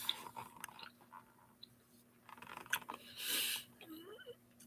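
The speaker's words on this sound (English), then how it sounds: "I can't chew it enough." Close, wet chewing of cooked stuffed pasta shells, with irregular mouth clicks and soft crunchy bites, then a brief louder hiss-like burst near the end, with no talk.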